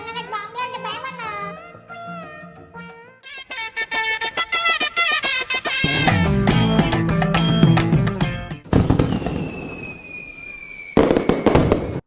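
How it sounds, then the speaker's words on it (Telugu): Fireworks and firecrackers bursting from a building rooftop in a rapid, loud series of cracks and whistling crackles, dense bursts overlapping one another, with little speech. "భలే పేలుస్తున్నారా అందరూ"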